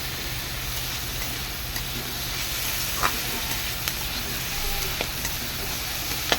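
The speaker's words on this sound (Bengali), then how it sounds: "এবার আমি ক্যাপসিকামটা দিয়ে দেবো।" Capsicum dropped into a pan of frying pasta vegetables, giving a steady close hiss of sizzling oil with a few sharp crackles and stirring clicks throughout.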